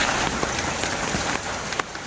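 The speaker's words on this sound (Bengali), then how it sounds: "বৃষ্টি চলে আসছে, এখন বৃষ্টির মধ্যে একটা আয়োজন করছি" Steady rain patters on a surface, a dense, even wash of drops with a few louder splashes.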